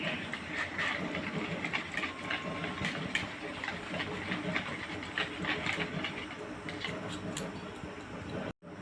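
An electric kitchen mixer grinder grinds ingredients with a little salt into powder. Its continuous, close whirring grind carries on steadily, then cuts out briefly near the end.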